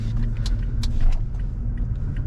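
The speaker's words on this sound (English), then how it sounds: "That thing's got an exhaust." A Toyota Tacoma with a loud aftermarket exhaust drives through city streets, giving a deep, steady engine rumble with scattered sharper clicks and rattles above it.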